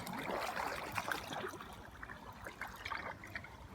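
Forward kayak paddle strokes in water, the blade dipping on alternate sides close to the boat, giving continuous splashing and trickling that swells and fades in uneven strokes.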